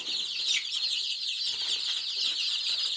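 Ardennaise hens in a backyard poultry pen, clucking softly and continuously over a loud, steady high hiss of background noise.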